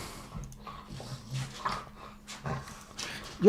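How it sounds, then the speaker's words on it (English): An agitated pet dog whimpers and gives short yips and barks indoors, close and restless, ending in a louder bark. "my dog is absolutely spurging right now"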